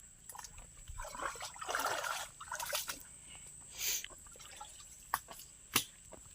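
Water trickling and dripping in a forest near Devgad, with soft irregular splashes and gurgles and a few sharp drips toward the end, fairly faint against a quiet outdoor background.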